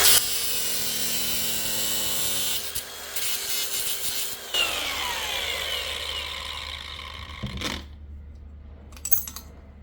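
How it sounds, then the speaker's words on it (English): A grinder works on a press-fit part on an RV front door, giving a close, loud, harsh whine with shifting pitch and a few pauses, then spins down to quieter scrapes and clinks near the end. "So then the first thing for me to do is grind this off."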